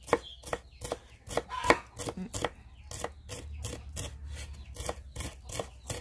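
A knife chops pickled shallot bulbs rapidly on a cutting board, about two crisp strokes per second in a steady rhythm, close and clear.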